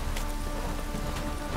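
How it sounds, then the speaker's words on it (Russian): Rain falls in The Witcher 3: Wild Hunt as a steady, dense hiss of drops on surfaces, fairly close and even, with a few faint hoof clops faintly under it. "Дождик!"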